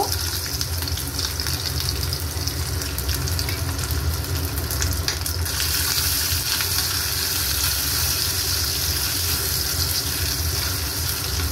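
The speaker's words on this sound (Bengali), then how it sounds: "নারকোল কুচি একটু করে রেখেছি, এগুলো একটু ভেজে নেব।" Chopped coconut fries in hot oil in a kadai, giving a loud, continuous sizzle that hisses steadily and brightens partway through.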